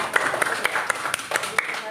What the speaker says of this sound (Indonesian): Oke, tepuk tangan berdua.